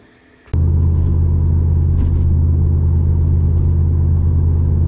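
A Holden drag car with its exhaust dumped at the differential rumbles very loud and close, starting abruptly and holding a deep, steady, throbbing idle without talk.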